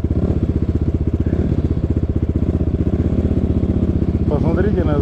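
An enduro motorcycle rides through wild forest, its engine a loud, close, steady low thrumming pulse throughout, with a voice speaking briefly over it near the end.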